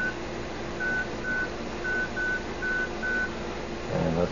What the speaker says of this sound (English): we can just go ahead and type in a phone number